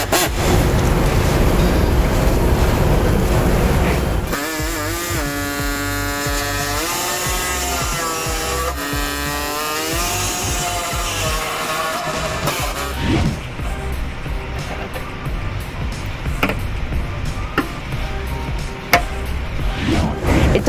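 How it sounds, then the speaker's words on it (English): Loud, continuous buzzing of an air saw cutting to enlarge holes in the frame of a 2014 Chevy Cruze during a trailer hitch install, with shifting pitch as the blade works and steady tool noise throughout. "I'm going to use a air saw to go ahead and enlarge the holes that we need to on the Chevy Cruze"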